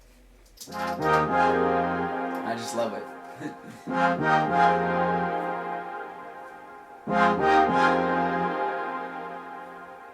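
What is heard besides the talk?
saw organ synth sound with sliding filter attack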